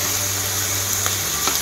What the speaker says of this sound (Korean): 버터에 볶고 있습니다.